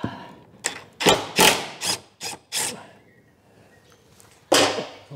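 Impact wrench working the prop shaft bolts on a BMW E31 850i, a series of loud short rattling bursts in quick succession, a pause, then one more burst near the end, no talking.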